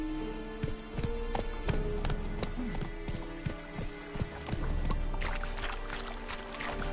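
A horse gallops in a fantasy video game, its hooves clip-clopping in a quick, rhythmic beat close by over ambient game sound, with a brief whinny-like tone and no voices.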